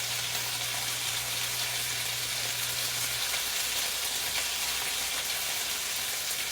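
Pieces of pepper steak sear in a hot pan with a steady, close sizzle and frying crackle throughout, no voices.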